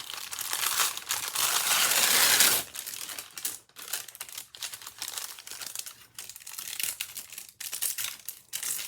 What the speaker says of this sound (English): So just tear it.